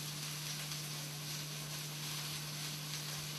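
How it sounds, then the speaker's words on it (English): A steady, dense sizzle of sliced mushrooms sautéing in a hot frying pan, constant and close, with a faint low hum underneath. "you really want to hear the sizzle the second they get in there"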